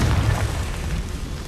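A Confringo blasting spell detonates in the Hogwarts Legacy video game, a loud, dense, rumbling boom that fills the short moment and decays slowly without fading out.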